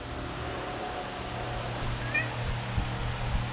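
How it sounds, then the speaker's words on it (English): A cat meows once, faint and short, in a garage during a Toyota 2JZ engine build, over a steady low hum. "Got a little visit from Cheese Balls, the 2JZ cat."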